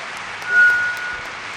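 Crowd applause at a live concert in Guasila, a short burst of even, hiss-like clapping that swells briefly and then holds, heard from a little distance.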